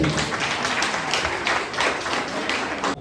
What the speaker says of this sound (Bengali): ওর জন্য একটা জোরে হাততালি